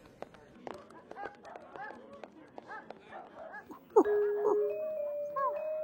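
Cartoon dogs at a dog show yip and bark in short bursts alongside whimpers, while a narrator's voice runs underneath; a drawn-out tone appears toward the end.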